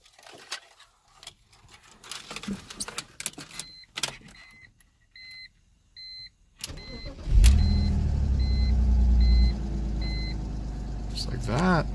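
German car bought from Copart, listed as non-starting, is started in winter: quiet clicks and chimes lead into the engine catching abruptly, a loud crank and burst of revs that settles into a steady idle, with repeated dashboard warning beeps.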